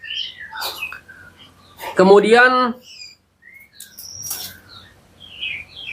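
A white-rumped shama (murai batu) that has just finished moulting gives scattered chirps and short calls, with someone speaking in between.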